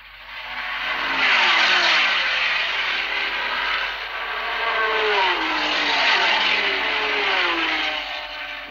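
A Porsche race car engine revs and accelerates away at Le Mans in 1964, a loud sustained roar that climbs through the gears, holds, then rises again as it pulls off, with no voices.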